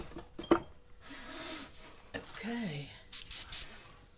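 An airbrush sprays white acrylic paint onto a board in short hissing bursts, with quiet handling clatter and a brief spoken word in between.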